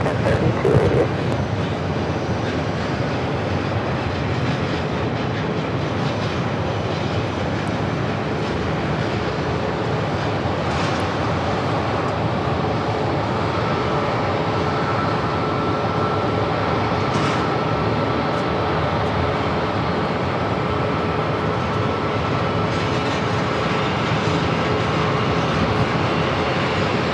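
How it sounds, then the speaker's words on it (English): Airbus A320 airliner arriving from Bakersfield at Phoenix airport, a loud sustained engine roar with a rumbling low end that stays steady for the whole stretch. "This flight coming in from Bakersfield on this A320."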